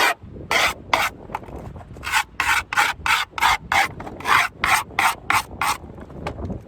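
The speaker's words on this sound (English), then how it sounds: "I'm going to use my screwdriver rather than a skate tool. So I'm just going to scrape along the edges" A screwdriver scrapes along the edges of skateboard grip tape in a series of about a dozen sharp, rhythmic rasping strokes, loud and close, each a short gritty scratch with brief pauses between.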